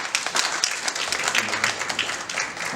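An audience at a 2020 unification policy forum claps warmly to welcome an arriving lawmaker, a lively, fairly close burst of many hands that holds steady for a few seconds.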